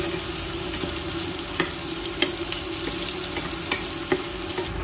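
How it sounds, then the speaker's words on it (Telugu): Chopped onion, garlic and curry leaves fry in a pan for a Bengali kochur loti dish, giving a dense, loud, continuous sizzle with regular light spatula taps, close and unaccompanied. "కట్ చేసుకున్న ఒక పెద్ద ఉల్లిపాయ, కరివేపాకు ఇలాగ కొంచెం వేయించుకుందాం అండి."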